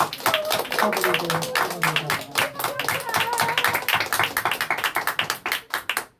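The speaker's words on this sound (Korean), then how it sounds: "우리 힘차게 박수로서 환영하겠습니다" A church congregation claps in welcome, a dense patter of many hands that grows more rhythmic and then thins out, with voices mixed in.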